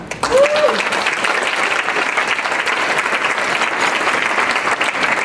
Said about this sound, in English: I would like to ask for a round of applause to the woman who makes Michael's success a possibility, Kathleen Clark